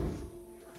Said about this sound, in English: my door is broken, you guys. So, yeah, it's not really that good, so makes a ton of noise